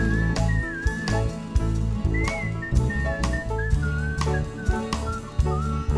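A whistled solo line wanders loosely over the beat in a recording-session mix of a song, backed by punchy drums and bass, with no talking.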